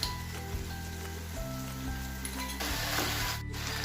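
Garlic ginger paste sizzles with chicken in a karahi for Afghani chicken karahi, a steady hissing fry close by with faint background tones and no talk.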